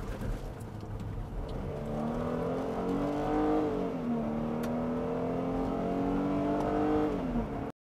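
A 2009 Ford Flex's 3.5-liter Duratec V6 engine revs steadily and loudly, its pitch rising then holding and dipping slightly, a continuous throaty drone close by with no talking.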